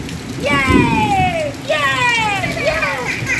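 Steady heavy rain hisses throughout while a child cries and wails loudly nearby in long rising and falling sobs.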